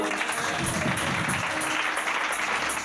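A church congregation claps to acclaim Jesus during worship: a sustained, dense wash of applause that holds steady throughout without pause.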